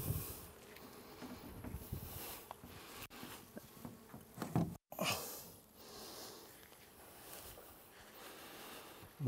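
Honey bees are let out of a total observation hive, and a steady, fuzzy buzz of many insects fills the air close by, with rustling handling noises.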